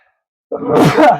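A single sneeze bursts out after a brief silence during a Marvel Champions tabletop card game session, loud and close with a breathy, noisy onset.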